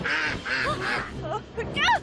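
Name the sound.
giant duck honking in video game My Time at Sandrock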